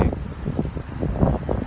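Steady wind buffeting a microphone, a low rumbling roar with gusty pulses that rise and fall throughout, no voices.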